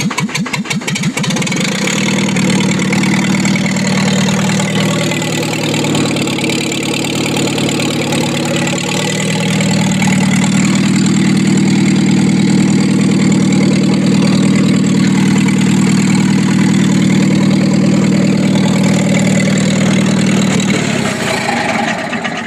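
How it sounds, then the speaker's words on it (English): Farmall M tractor engine, fitted to a corn picker and running on plain gasoline, cranks and catches, then settles into a loud, steady, low idle rumble held close for the whole stretch. "Let's see if she'll start on just regular straight gas."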